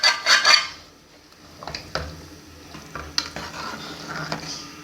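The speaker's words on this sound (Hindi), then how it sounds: "अब इसको हम चनों के अंदर जो मैंने बॉईल करके रखे इसमें ये मसाला शामिल करेंगे" Fried masala being stirred into boiled chickpeas, wet scraping and clinking of a spoon against the pot in irregular strokes over a faint sizzle, preceded by a brief louder burst at the start.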